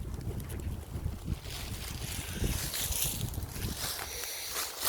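Wind blows steadily on a mountain slope where orchids grow, a continuous rushing gust noise with buffeting rumble close to the microphone.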